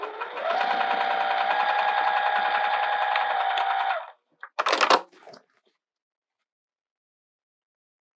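A sewing machine stitches quilted vinyl in a steady, fast mechanical whir for about four seconds, then stops, followed by a few brief clicks and rustles before falling silent.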